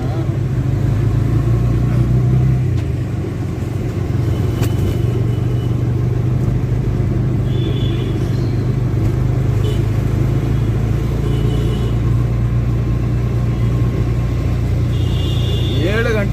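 Steady road traffic in the early morning, with cars and other vehicles rumbling and humming continuously nearby and engines swelling now and then, while people talk over the noise.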